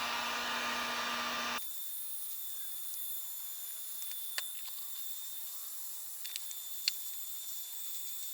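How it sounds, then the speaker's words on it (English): A heat gun blows on fluorescent resin art as a steady, loud airy whoosh for under two seconds, then cuts off, leaving faint background hiss and a few small clicks. "And the heat gun's also going to help it to flow whatever direction I tilt the box."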